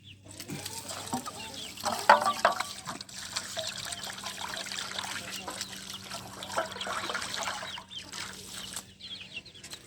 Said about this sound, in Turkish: Evet, dökelim tepsimizi yıkayalım.